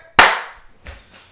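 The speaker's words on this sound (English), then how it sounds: "Sorry, I'm not supposed to clap." One sharp, loud hand clap rings out close by, followed by a softer knock about half a second later, in a quiet room during a live sports and entertainment talk show.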